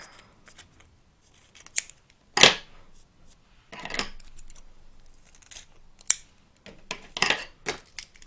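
Scissors snipping excess grosgrain ribbon while making a kanzashi ribbon flower, several crisp separate cuts and small rustles, close and clear with quiet gaps between.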